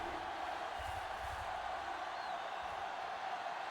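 A stadium crowd at a video game football match in Toronto keeps up a steady, even roar of cheering during a divisional game, with no clear peaks or individual voices.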